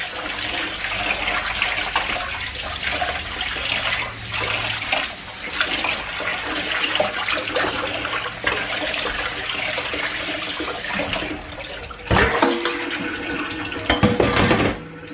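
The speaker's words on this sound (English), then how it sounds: "we need to wash it until the water runs clear" Bulgur wheat is washed in cold water under a running tap, a steady loud gush of water splashing into a bowl with rustling and sloshing grains, ending in a few knocks and clatters near the close.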